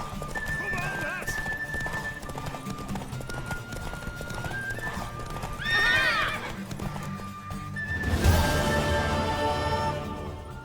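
Horse galloping in The Witcher 3, with steady rhythmic hoofbeats running under game music and a loud whinny breaking through near the end, along with some voices.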